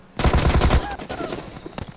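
PUBG Mobile gunfire: a loud, rapid burst of automatic shots lasting about half a second, followed by quieter scattered in-game sounds.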